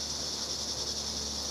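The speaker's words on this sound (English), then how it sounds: "The cicadas here are so loud right now." Cicadas buzz outdoors in a loud, steady, continuous drone that holds level throughout without a break.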